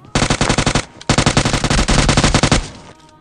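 Rapid automatic gunfire from players laying down cover fire in the PUBG mobile game, played on an iPad: two loud, dense bursts of rhythmic shots separated by a short gap, with no voices over them.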